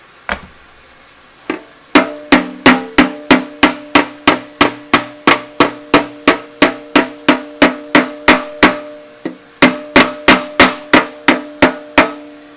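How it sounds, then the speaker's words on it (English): Sharp metallic strikes of a reverse curve hammer shaping a wire edge on a metal garden pulling tractor fender ring out in a steady, rapid series, about twenty-five blows with a brief pause near the end, close and loud. "Still using the reverse curve hammer."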